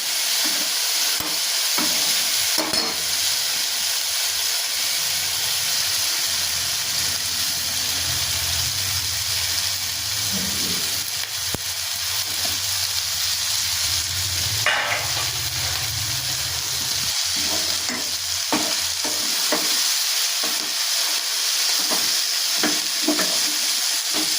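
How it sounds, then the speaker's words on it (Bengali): Chopped cabbage stir-fried with potatoes and spices in a pan, sizzling and hissing steadily throughout, with intermittent scraping and stirring clatters from a utensil and no talking. "এবার আমি কেটে রাখা বাঁধাকপিগুলো এর ভেতরে দিয়ে দেবো"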